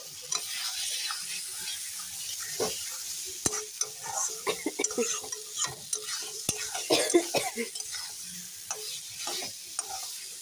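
Spice masala with chili powder and green chili being stir-fried for a vegetarian cauliflower dish, soft sizzling broken by repeated scraping and tapping of a spatula against the pan.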